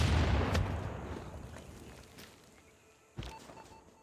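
Distant gunfire in Civilization V: a few faint sharp shots over a noisy rumbling background, with one louder crack near the end.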